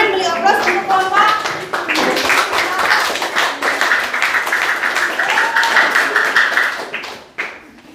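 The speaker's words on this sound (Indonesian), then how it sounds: "Beri tepuk tangan, beri aplaus untuk kelompok." A classroom breaks into a long round of steady clapping for a student group, with children's voices chattering underneath before it fades out.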